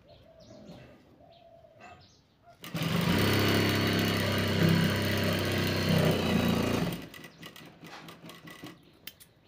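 A sewing machine runs in one loud continuous burst of about four seconds while stitching a long 75-inch khimar, the motor whirring steadily before stopping, with quieter handling sounds before and after.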